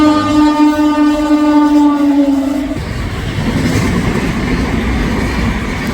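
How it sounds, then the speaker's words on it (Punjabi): A train sounds a long, loud horn, then rumbles past close by without stopping at Rajpura Junction railway station, Punjab, India, with a continuous rattling roar of wheels on track. "ਇਹ ਵੀ ਜਿਹੜੀ ਟ੍ਰੇਨ ਆ ਸਕਿਪ ਕਰਕੇ ਚਲੀ ਗਈ ਹੈ"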